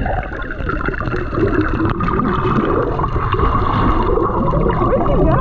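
Ocean waves splash and churn around a swimmer off Hawaii. The water is loud and close, with continuous sloshing and gurgling through the whole stretch and no talk.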